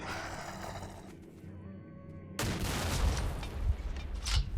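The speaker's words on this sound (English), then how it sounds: "And something's shooting at me, which is just wonderful." Gunfire aimed at the player in S.T.A.L.K.E.R. OGSE, a sudden outbreak of loud, close shots and crackling bursts after a quieter ambient stretch, continuing in uneven volleys.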